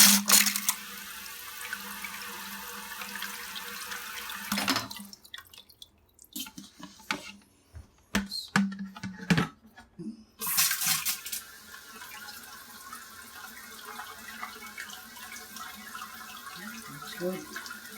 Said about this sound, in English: I want to do a spray test.